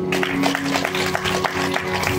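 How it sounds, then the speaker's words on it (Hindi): Audience at a Bhagavat Katha religious discourse clapping in a steady rhythm, claps fairly close and even, accompanied by a sustained tonal hum of music underneath. "ताली बजा दो।"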